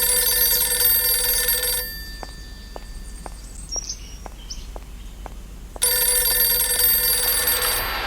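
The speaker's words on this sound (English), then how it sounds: "Could that be a telephone ringing?" In the Journey to the Center of the Earth adventure game, a telephone rings in evenly spaced, rapid bell pulses through a quieter stretch, with louder background music before and after.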